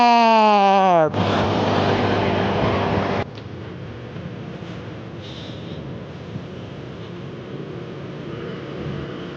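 A Honda Vario 160 Evo scooter sets off and rides away: a steady engine drone with wind noise at first, then a rougher, quieter road rumble as it gets under way.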